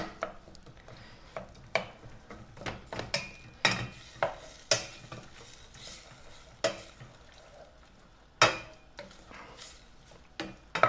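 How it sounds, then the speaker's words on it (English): Vegetables for a turkey pot pie sauté in a pan, a continuous sizzle broken by frequent stirring clacks and scrapes of a utensil against the pan, close and fairly loud with no talking. "So we just are going to heat this till it sautés."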